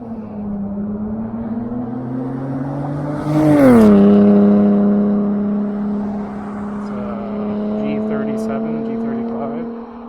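A car engine revs up with a rising, then steady exhaust drone, loud and close, with a brief swell as it accelerates during a night ride in North Vancouver.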